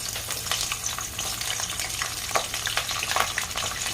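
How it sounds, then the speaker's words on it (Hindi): Vegetables, including cauliflower, deep-fry in hot oil over a high flame, giving a continuous close sizzle with crackling bursts and no talking. "एक एक करके सारे वेजिटेबल को फ्राई कर लेंगे।"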